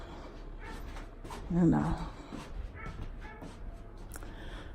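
A dog whimpers and gives a short bark or yip close by, while someone talks over it and a low background hum runs underneath.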